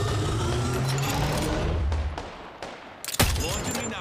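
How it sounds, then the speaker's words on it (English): Apex Legends' knuckle cluster launcher fires from amid dense gameplay noise, giving a sharp, loud burst of rapid pops near the end that carries over a rumbling game background. "Deploying me knuckle cluster. Firing."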